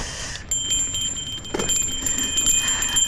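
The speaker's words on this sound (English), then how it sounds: "Gotta always have the bell, because there's a lot of people that hike up here, so safety first." A mountain bike bell on a hiking trail rings with a bright, sustained metallic tone that lingers over steady outdoor noise and rolling tyre rumble.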